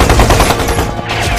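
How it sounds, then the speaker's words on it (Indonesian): A gunfire exchange in an Indonesian war film set in Bali between Dutch troops and local fighters: dense, loud bursts of rapid shots overlapping without a pause. "terjadilah baku tembak antara pasukan Belanda dengan pasukan Amir dan rakyat Bali"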